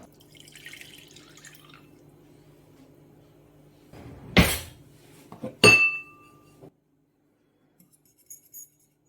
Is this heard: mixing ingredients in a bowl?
yes